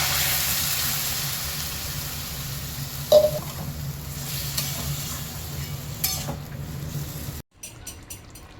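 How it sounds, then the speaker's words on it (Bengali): Water poured into a pan of well-fried spice masala for a moringa drumstick and potato curry hisses and sizzles, with a steady frying crackle and faint stirring. The sound drops off abruptly near the end. "মশলাটা ভালো করে কষানো হয়ে গেছে, এবার জল ঢেলে দিচ্ছি।"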